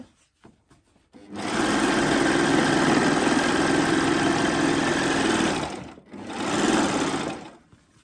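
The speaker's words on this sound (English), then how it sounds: "And from that chiffon, I'm going to sew straight onto denim." A Babylock Acclaim sewing machine stitches straight from chiffon onto denim in a long, steady run, briefly pausing and then resuming with a short second burst, loud and close.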